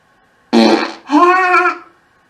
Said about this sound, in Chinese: 放个屁。